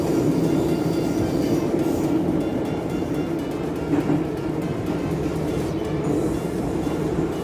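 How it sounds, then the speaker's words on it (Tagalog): Steady low rumble of a metro train in a station in Baku, Azerbaijan, a continuous mechanical drone with faint clatter, fairly loud and constant throughout, no speech. "Ayan po yung train nila."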